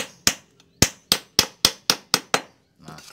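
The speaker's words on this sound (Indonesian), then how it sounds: "Di sini kita paku dulu ya." Nails driven into a pot mold 35 cm tall with sharp, close hammer blows: one strike, a pause, then a quick run of seven evenly spaced bangs, followed by a soft scrape.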